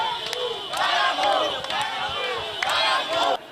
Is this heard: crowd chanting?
yes